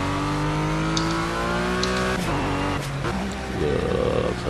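RUF CTR3 SMS-R engine in Project Cars on the Azure Coast track, a loud, close, sustained engine note that climbs steadily in pitch, drops sharply at a gear change, then rises again.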